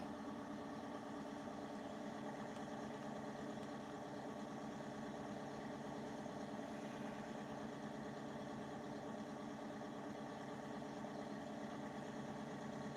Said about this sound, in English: Kind of sounds like the engine, one of the engines at my local fire hall